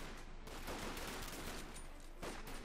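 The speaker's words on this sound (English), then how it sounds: "we got the Pathfinders there firing their rifles" Pathfinder infantry fire rifles in a Company of Heroes 2 battle, a dense, quiet crackle of overlapping gunshots with sharper bursts near the start and again toward the end.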